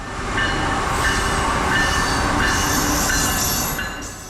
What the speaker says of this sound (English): Amtrak Regional Train 146 on track 4 eastbound easily outpaces the slower Metro North Danbury branch shuttle 6862 arriving at South Norwalk onto track 3.